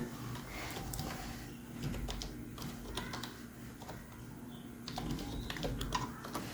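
Typing on a computer keyboard to enter a website address, a quick run of close, light key clicks in uneven bursts with short pauses, over a faint background hum.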